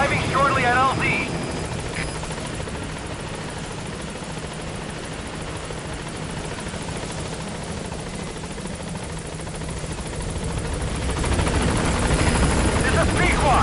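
The Pegasus helicopter in Metal Gear Solid V arrives at a landing zone with a loud, continuous rotor thrum that swells near the end, while radio voices talk over it.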